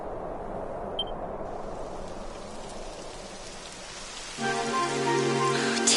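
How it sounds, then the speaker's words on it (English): Steady rainfall patters across surfaces in a video game, a soft continuous hiss throughout, joined near the end by a brighter tonal layer of game music or ambience. "It would have to go and start raining, wouldn't it?"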